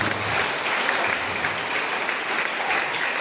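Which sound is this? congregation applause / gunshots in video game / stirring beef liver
congregation applause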